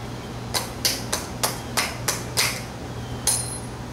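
Sharp metallic hammer taps strike a snap ring on a VW air-cooled transaxle, about eight separate blows in an uneven rhythm, close and clear over a low background hum.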